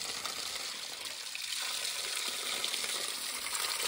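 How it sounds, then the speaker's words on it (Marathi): Water pouring continuously from a village water source in Chirani, a constant splashing stream at moderate level, close by, with no speech over it. "हा काय हे बघा इकडून पाणी येतं."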